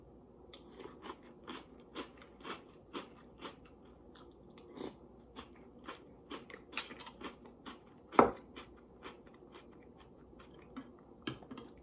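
Reese's Puffs cereal crunched in milk, with repeated close, sharp crunches and chewing bites at an irregular rhythm and one louder crack near the end, against quiet background.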